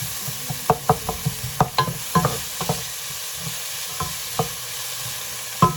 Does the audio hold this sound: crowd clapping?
no